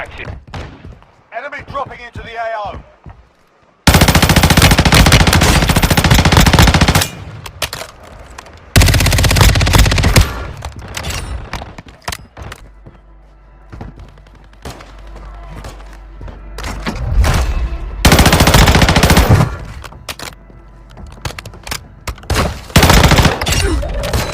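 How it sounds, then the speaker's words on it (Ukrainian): Bursts of rapid video-game gunfire from Warzone Mobile erupt loudly in several long stretches, with quieter game sounds and muffled movement between the volleys. "Я чув, хтось з гори стріляв"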